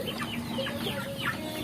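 Free-range village hens cluck in a series of short, repeated calls, fairly close and steady over a low background hum, with no talking.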